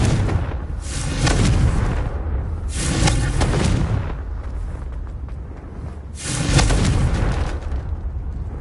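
The Confringo fire spell in Hogwarts Legacy blasts three times, each a heavy, booming explosion with a rumbling tail. The blasts come roughly every three seconds, loud and close.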